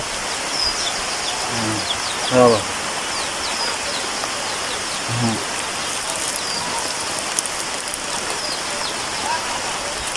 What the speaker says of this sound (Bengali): নদীতে কি বৃষ্টি শুরু হয়ে গেল